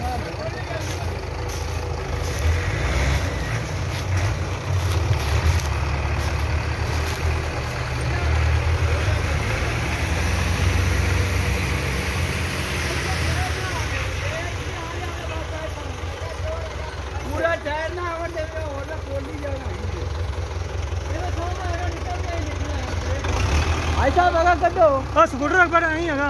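A Belarus tractor engine runs steadily with a low rumbling drone while being worked free from getting stuck, rising in places, with people talking over it throughout.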